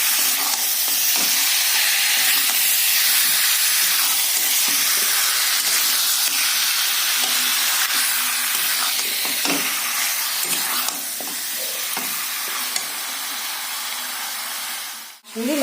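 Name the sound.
chicken being stir-fried in a pan for chicken kosha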